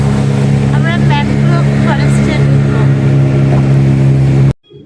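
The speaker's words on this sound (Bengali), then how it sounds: "আমাদের বোট এখন ব্রিজের নিচ দিয়ে চলে যাচ্ছে।" Steady, loud drone of a tour boat motor on a boat safari in Sri Lanka, the engine running close by as the boat passes under a bridge, with voices talking over it before it cuts off abruptly at the end.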